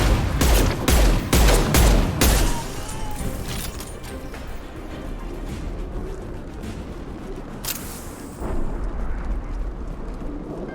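Mass Effect 2 combat: several sharp explosive blasts from a grenade open the scene, followed by continuous rumbling gunfire and battle noise, with another burst near the end.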